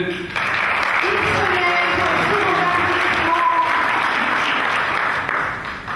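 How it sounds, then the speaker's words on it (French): Applause fills the room at an evening launch of a grandes écoles entrepreneurs network in Morocco, a dense, sustained crowd clapping for several seconds, with voices beneath and a pitched tone briefly over it. "Des applaudissements, bien entendu."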